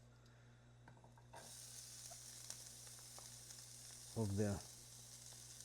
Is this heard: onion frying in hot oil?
yes